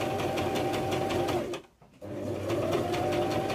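A sewing machine runs a straight stitch along the middle section of a fabric bow, with forward and back stitching. A steady, rapid mechanical whirr runs close up, breaks off briefly in a short pause, then resumes at the same pace.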